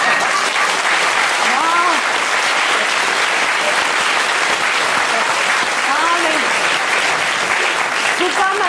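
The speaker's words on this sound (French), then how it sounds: "Faut pas m'applaudir" Audience applause for a French comedy impressionist, steady and dense across the whole stretch, with a few faint voices calling out over the clapping.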